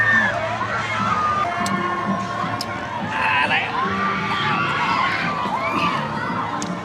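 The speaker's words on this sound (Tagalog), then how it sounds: "Habang nakikinig mo ng mga sigawan." A crowd screams and shouts at an amusement park with a Ferris wheel, a dense, continuous wash of distant and mid-range shrieks and cheering with children's voices, with babble throughout.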